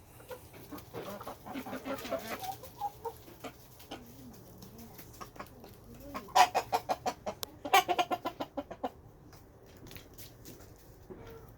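Rhode Island Red chickens, roosters and hens, cluck and murmur nearby, with a run of rapid, rhythmic clucks in the middle and softer calls scattered around it, no talking.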